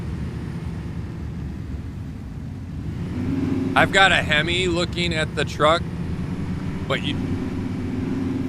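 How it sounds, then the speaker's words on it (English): A truck's V8 engine in the hunting game Way of the Hunter drones low and steady throughout, rising slightly in the second half while someone talks over it. "got the sound of 8 cylinders cranking away"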